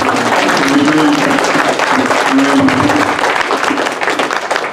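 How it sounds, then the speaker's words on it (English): A church congregation claps its hands in praise, a dense steady wash of many palms sustained throughout, with a tonal hum and some voices mixed in beneath. "Let's give Jesus a hand clap of praise."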